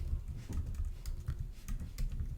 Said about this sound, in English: So go above the class and type import